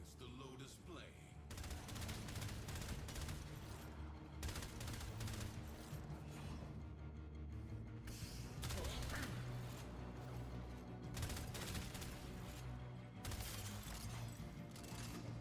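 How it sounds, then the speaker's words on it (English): Burst rifle fire in an action video game, rapid volleys of shots repeating in clusters over a dense, continuous bed of game noise, steady and fairly loud throughout. "Burst rifle."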